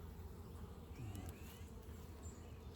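A faint, low buzzing of drone honeybees in a busy resource hive hangs under a broad background hiss, soft and distant with one brief rising whine.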